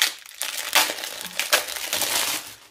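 Plastic packaging around a lace flower pattern is pulled open by hand, a close series of sharp crinkling and crackling bursts in quick irregular succession.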